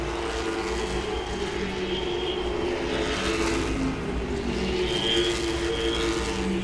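A late model race car engine at Langley Speedway holds a steady, wound-up drone at a distance, blending with the broad roar of the track with no pause or break.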